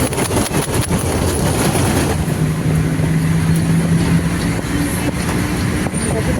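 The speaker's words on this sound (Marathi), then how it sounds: "जोराचा पाऊस पडतो इथे" Heavy rain heard from inside a moving bus travelling from Satara to Mumbai, a steady loud wash of rain and road rumble with a low engine drone underneath, no speech.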